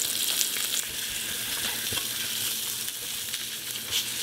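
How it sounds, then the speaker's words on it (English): Pork chops searing in a hot pan, giving a steady dense sizzle and crackle with small spits, fairly quiet and continuous, no voices. "And we're just going to just outsides of them browned up."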